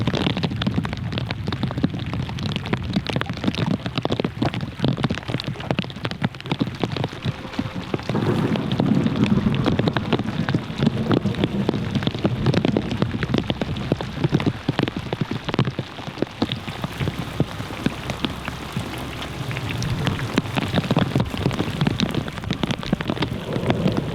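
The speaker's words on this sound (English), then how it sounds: "And the rain's hammering down" Heavy rain hammers down on a campsite in the boreal wilderness, a loud, dense, continuous roar of drops beating on surfaces with gusty swells and no voices.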